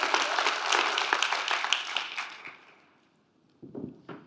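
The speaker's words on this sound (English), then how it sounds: "Give Becca a round of applause." Audience applause for a volunteer coming up on stage at a CrossFit sales talk, a loud burst of clapping that fades out within about three seconds, followed by a couple of faint thuds.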